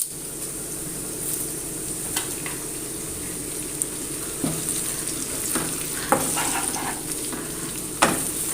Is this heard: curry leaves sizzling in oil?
yes